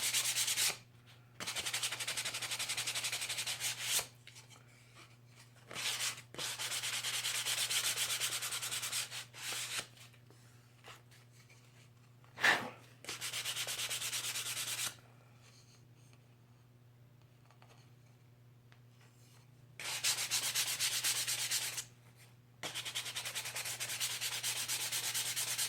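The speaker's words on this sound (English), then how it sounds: "take some sandpaper, just sand these edges just a little bit" Sandpaper rubs the edges of a Mod Podge-coated repurposed Christmas card craft in several close bursts of scratchy sanding, separated by quiet pauses.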